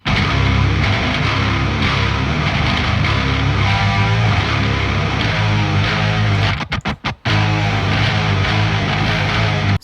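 Bass and distorted guitars mixed together for a Carnatic progressive metal band, a dense, loud and continuous wall of heavy sound with a few abrupt stop-start hits near the end, no talking.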